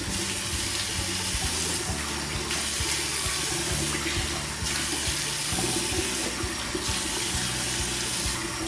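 Warm tap water runs steadily into a sink during washing, a continuous close rush that shifts slightly as hands move through the stream.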